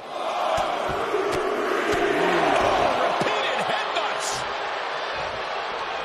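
Wrestling arena crowd roaring during a Sheamus match, a dense, loud, sustained wash of noise with occasional thuds and sharp slams cutting through.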